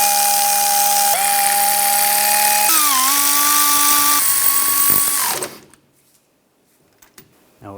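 Power tool tightening wheel hub bolts on an Infiniti FX35 during a front wheel bearing and hub replacement, a loud steady whine with pitch steps for about five seconds, then stopping abruptly, followed by a few faint clicks.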